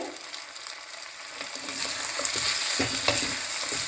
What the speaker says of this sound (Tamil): கொஞ்ச நேரம் உருளைக்கிழங்கு இதுலேயே நல்லா வதக்கி விடுங்க.